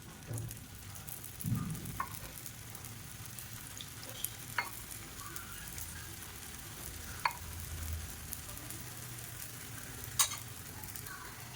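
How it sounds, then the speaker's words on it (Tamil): Paniyaram batter fries in ghee and oil on a paniyaram pan, giving a continuous close sizzle with occasional sharp crackles and light scraping sounds. "நான் வந்து இன்றைக்கி பனியார கல்லில் தான் எண்ணெய் ஊற்றி பொறிக்கிறேன்"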